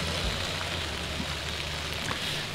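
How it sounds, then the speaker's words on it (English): Steady rain falling and building at a race track before the 2014 Keystone Nationals, a dense continuous hiss with faint low rumble beneath and no talk. "As the rains begin to pick up,"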